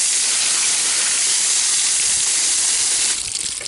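Water sprayed from a hose onto freshly husked butternuts, a loud, steady rushing hiss that holds for about three seconds, then thins and falters as the spray tapers off.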